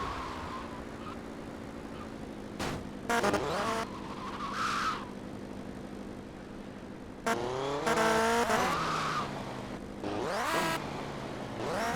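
A motorcycle in GTA Vice City heading for a bridge, its engine whining and rising in pitch as it accelerates in several bursts, with sharp sweeping revs and tire noise over a steady background hum.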